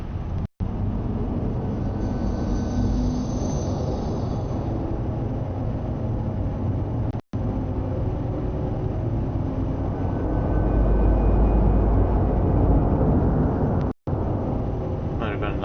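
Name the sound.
spaceship taking off in a video game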